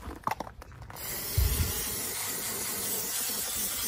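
A few quick rattles of a shaken can, then a steady, close hiss of aerosol spray that continues to the end.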